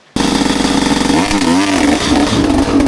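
A motorcycle engine revs loudly and continuously at a river crossing, its pitch rising and dipping as the throttle is worked, with clattering mechanical noise throughout.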